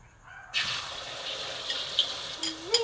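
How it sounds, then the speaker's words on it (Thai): Beaten eggs hit a smoking-hot pan for a Thai omelette, bursting into a sudden loud hissing sizzle that then continues steadily, crackling and popping close up with no talking. "กระทะมันเริ่มควันนะครับ แล้วก็จะ ไข่ลงไปเจียวนะครับ"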